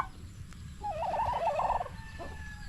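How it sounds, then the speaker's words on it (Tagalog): A turkey lets out a single rapid, warbling gobble at moderate distance over a quiet, faintly noisy background. "Ang pabo."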